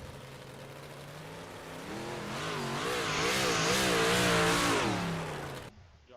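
358 sprint cars racing a heat at Kokomo Speedway, a dense engine roar with several cars revving and sweeping past, swelling louder in the middle before cutting off abruptly near the end.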